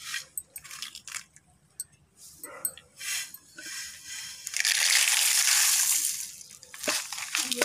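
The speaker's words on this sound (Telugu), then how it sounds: "ఇప్పుడు దంచుకుందాం పచ్చడి." Raw mango chutney pounded by hand in a stone mortar, a series of uneven, close crushing thuds that build into a longer stretch of dense grinding and mashing, then a few final knocks.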